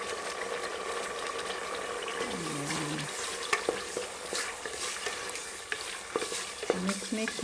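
Italian spaghetti sauce being mixed in a pan, giving a steady frying hiss with scraping, clicking utensil strokes against the metal and a few sharper knocks, fairly close throughout.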